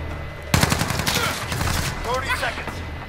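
Rapid automatic gunfire in a Call of Duty Modern Warfare team deathmatch on the Crash map, a sudden loud burst of dense shots that keeps rattling for several seconds, with a voice mixed in.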